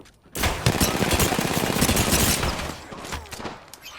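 Dense, sustained automatic gunfire from Apex Legends fills nearly four seconds, loud and close, with rapid overlapping shots that taper slightly toward the end.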